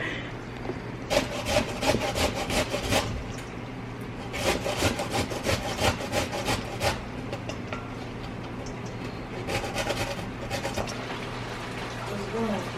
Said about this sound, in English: I'm gonna take my grater and I'm gonna start grating the broccoli. Or, sorry, cauliflower.